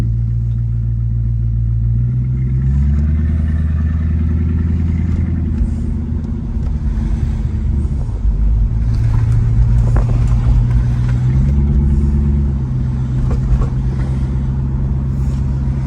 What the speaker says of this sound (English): you can hear the exhaust leak when I'm accelerating